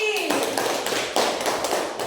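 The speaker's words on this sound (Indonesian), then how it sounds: "Oke, tepuk tangan untuk Suci." A seventh-grade Islamic religious education class claps for a student, a dense patter of many hands applauding steadily for a couple of seconds, with voices mixed in.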